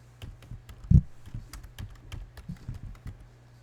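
Typing on a computer keyboard, a steady run of close, crisp key clicks with one louder thump partway through, over a low background hum.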